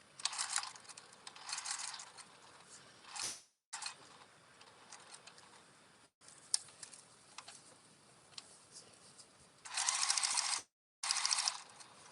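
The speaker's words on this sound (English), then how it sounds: "I'm going to sew all the way around 1/2 inch seam allowance" A sewing machine stitching a half-inch seam around a fabric microwaveable bowl cozy, its needle running in several close bursts of steady rapid whirring and ticking separated by short pauses.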